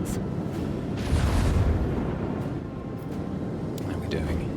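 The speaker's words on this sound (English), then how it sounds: "Unleash the storm of macro cannons." Macro cannons fire during space combat in the video game Rogue Trader, a dense rumbling roar with a heavier booming swell midway and sharper bursts near the end, under faint whispery voices.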